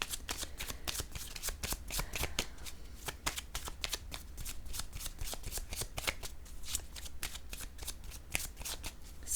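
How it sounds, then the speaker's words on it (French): A deck of tarot cards is handled and shuffled close up, with a steady run of crisp riffling flutters and soft slaps going on continuously with no talking. "je vais juste enlever le paquet de cartes"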